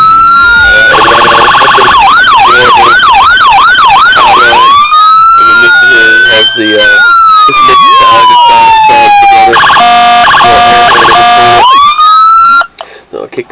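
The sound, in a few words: toy police car siren, 1:18 scale Saleen Mustang model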